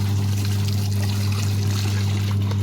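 Water runs and trickles steadily at home while a mother washes clothes by hand, a continuous close splashing flow under a low steady hum.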